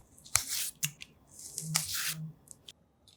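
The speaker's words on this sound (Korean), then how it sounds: "손으로 자연스럽게 뜯어주고요" Soft, wet tearing of cooked, cooled eggplant pulled apart by hand in a home kitchen, with several short squishy rips and crisp snaps close by, without talk.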